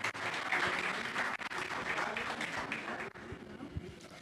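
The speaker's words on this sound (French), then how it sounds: "On applaudit s'il vous plaît" Audience applause during a talk on public speaking at a youth centre, a steady dense wash of clapping that runs the whole way through at moderate loudness, with a brief dip near the middle.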